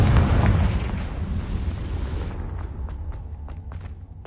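A Confringo spell blast in Hogwarts Legacy: a loud, deep explosion boom that rumbles and slowly fades, followed by scattered debris crackles and small pops.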